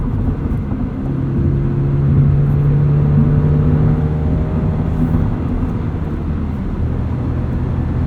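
A Subaru BRZ engine pulls hard under acceleration from inside the car, a loud, steady drone that rises smoothly in pitch through the rev range before easing off.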